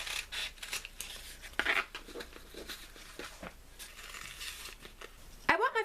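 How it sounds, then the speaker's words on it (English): Scissors fussy cutting around small fabric pieces backed with Heat and Bond, giving a run of soft, close snips and crinkly rustles with a sharper cluster of cuts near the end. "I'm on to fussy cutting around these pieces."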